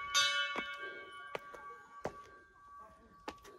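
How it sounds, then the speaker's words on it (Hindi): A temple bell struck once rings out with a long shimmering tone, followed by several softer knocks and a couple of lighter taps as it fades. "मुझसे कैसे बजे ये वाली घंटी।"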